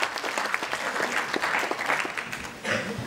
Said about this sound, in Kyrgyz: Пётрга бир кол чаап коелу.